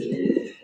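A black fancy pigeon offered for sale coos close by in one short, low, throaty burst, with no talking over it.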